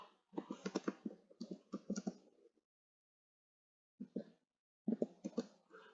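Typing a swap-row command on a computer keyboard during a linear algebra matrix exercise: two quick bursts of clicky keystrokes, a longer run then a short pause and a few more taps, close and fairly quiet.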